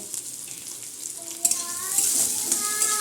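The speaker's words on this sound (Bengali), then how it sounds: "একটু ভেজে নেব দেখো আমার আলু ভাজা হয়ে গেছে" Potatoes fry in a pan with split green chillies, turmeric and salt, giving a close, continuous hissing sizzle with light scrapes and clinks of stirring.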